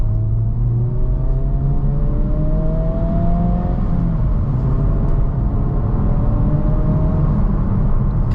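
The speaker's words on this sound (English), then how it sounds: "Let's go from 30 to 60." A 2023 Honda Civic Type R (UK model) accelerates from 30 to 60 at part throttle during a night drive, its engine note rising steadily through one gear change under a constant loud rumble of road and cabin noise.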